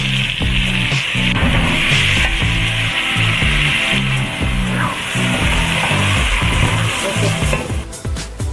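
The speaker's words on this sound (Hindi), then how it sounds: "ये हम टमाटर डाल देंगे, 4 टमाटर।" Four tomatoes drop into a hot chicken biryani pan, setting off a loud, steady sizzle and frying hiss that carries on throughout over a rhythmic low backing.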